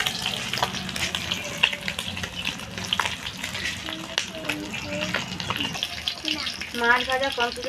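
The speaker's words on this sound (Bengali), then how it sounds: "মাছ ভাজা কমপ্লিট হয়ে গেছে" Small tengra fish fry in hot oil, a steady crackling sizzle with spatters throughout, close by in a kitchen, with some stirring and a voice faintly in the background.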